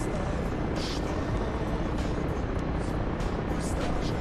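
Helicopter rotors in the DCS flight simulator, flying low near trees on the way to Nalchik: a steady, dense, close thrumming drone with a faint chop that holds without pause throughout.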